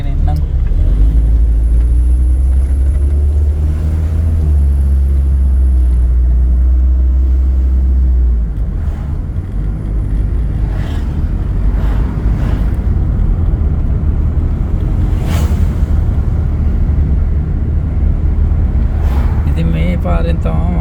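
A village main road carries a motor vehicle that rumbles loudly and close by at first, then eases into a steady traffic drone, with a voice talking over it throughout.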